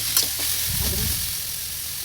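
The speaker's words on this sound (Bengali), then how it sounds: "শাকগুলো দিয়ে কিছুক্ষণ ভেজে নেব" Leafy greens sizzle and crackle in hot oil in a wok, a steady close frying hiss with stirring scrapes across the whole stretch, no voices.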